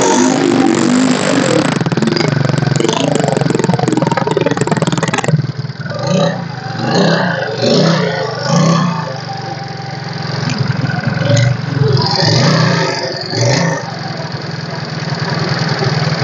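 A used 2015 two-wheeler motorcycle with disc brake and alloy wheels idles loudly up close, its engine revved in several rising bursts over a running rumble, with no talking.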